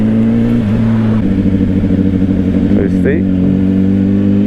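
A 2025 Honda CBR600RR motorcycle engine drones steadily, and its tone steps through quick-shifter gear changes. Someone speaks briefly over the continuous close engine hum.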